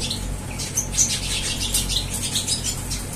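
Pet birds inside a home aviary give off repeated high chirps and short squawks with light wing flutters, fairly close and continuous over a low background hum.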